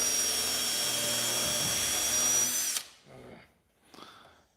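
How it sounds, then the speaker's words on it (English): Carbide deburr bit in a drill grinds open a hole in a ratchet head to fit a larger spring, a loud continuous high whine that cuts off after about three seconds, leaving a few short spins. "he's using that carbide deburr tool to open up the hole"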